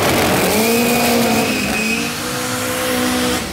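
A Chevrolet Chevette drag car accelerating hard off the line at a drag strip, its engine note climbing loud and close in one sustained rising roar with no talk over it.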